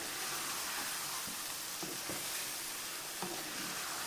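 Chicken handi masala is sautéed in a pot as the spices cook down, giving a soft, even sizzle broken by a few light scrapes of stirring, all heard fairly quietly with no talking.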